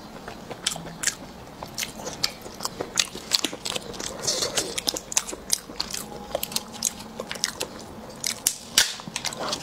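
Close, repeated crunchy bites and chewing of salt-baked food with egg yolk inside, sharp irregular crackles over a quiet background.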